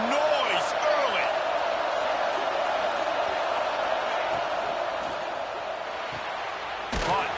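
Roaring stadium crowd at a college football video game, a steady loud wash of cheering and noise sustained throughout, with a brief sharper burst near the end.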